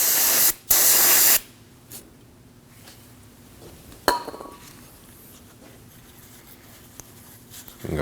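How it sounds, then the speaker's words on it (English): Brake parts cleaner hisses loudly from an aerosol can in two short bursts during work on a 2003-2006 Subaru Baja 2.5L H4 engine, followed by quiet handling noises and a metallic clink. "I'll just use some brake parts cleaner."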